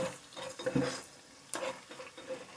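A spoon stirs a kappa and fish curry mixture in a pan. Quiet scrapes and knocks come in a few separate bursts over a faint background.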